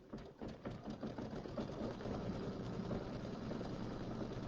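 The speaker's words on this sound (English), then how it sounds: "So I'm just going to quilt this right here so you can see it go." A computerized quilting machine stitches a design into a quilt, giving a steady mechanical whir with a fast, even needle rhythm that holds close and constant throughout.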